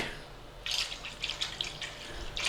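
Milk poured into a stand mixer bowl while making soft pita bread dough: a quiet, trickling splash of liquid in short irregular bursts, close and faint, with no talking.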